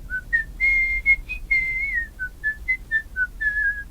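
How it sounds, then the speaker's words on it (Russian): A lone person whistles a slow, wavering tune in short and held notes late at night, clear and fairly close over a quiet, faintly humming background, with no voices. "точно в 3:03 мы услышали насвистывание"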